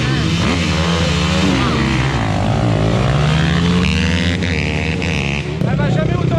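A YCF 190 pit bike engine runs steadily at a close distance, a loud continuous buzzing drone with shifting pitch, while people talk over it.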